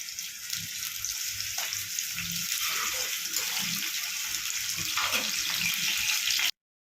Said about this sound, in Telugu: ఇప్పుడు ఇందులో ఉల్లిగడ్డలు వేసుకొని అలానే 2 పచ్చిమిర్చి వేసుకొని మంచిగా దీనికి ఎర్రగా గోలించుకోవాలి